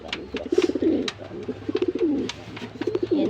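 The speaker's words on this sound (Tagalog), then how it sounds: "Ayan sila mga kalapatids." Pigeons coo in a pair, close by, with rapid rhythmic throaty calls repeating over and over and soft higher chirps scattered between them.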